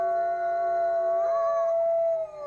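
A person imitates a wolf with a sustained, wavering howl, loud and close, holding a steady pitch that bends slightly upward before fading out.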